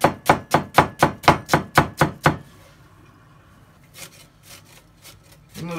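Knife chopping two onions on a board for an ethicin meat-topped flatbread, ten quick, even, close strikes in a steady rhythm, then a short quiet pause before a few softer, scattered knocks.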